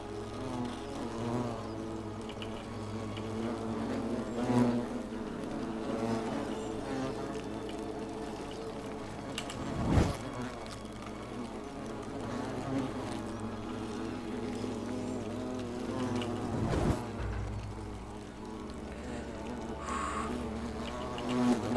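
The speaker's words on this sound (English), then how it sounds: "I hate wasps." Wasps buzz continuously in The Forgotten City game, a dense droning hum that swells and fades as they circle close, with a couple of sharp thuds breaking through and no speech.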